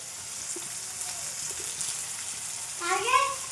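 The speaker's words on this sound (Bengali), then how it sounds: "একটা টমেটো এর সাথে কষে দিলাম। একটু ভেজে নেবো টমেটোটা।" A tomato fries in a pan while cooking spiced goat meat curry, giving a soft, steady sizzle throughout that swells briefly louder near the end.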